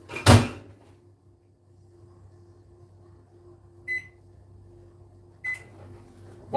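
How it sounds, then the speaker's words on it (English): Kitchen microwave oven running with a low steady hum, punctuated by a door or cupboard knock at the start and two short beeps a few seconds apart. "I'll just have to put the microwave on for 1 minute and 20 seconds"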